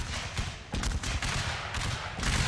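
Continuous massed rifle volleys from troops fighting in the strategy game Unequal Treaties as Great Britain, dense overlapping crackling shots forming a steady loud roar of battle.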